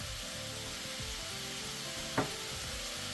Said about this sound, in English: I'm just going to add 2 teaspoons of soy sauce to this.